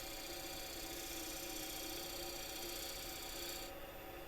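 A sharp bowl gouge cuts a wooden bowl spinning on a lathe, giving a steady close rasping hiss of fine shavings peeling off over a constant machine hum, with the cut stopping just before the end.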